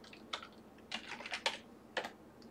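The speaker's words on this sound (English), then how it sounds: "See, I typed in Mitchell with an S like this" Computer keyboard keys clacking as a search term is typed, a handful of quick, light taps in short irregular bursts, close and quiet.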